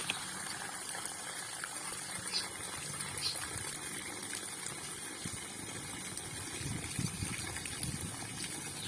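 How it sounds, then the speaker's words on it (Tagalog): Water gushes faintly and steadily into a cooking pot over ube (purple yam) being boiled for ube halaya. "Lagyan nyo laang ho ng tubig na nakalubog yung ating ube."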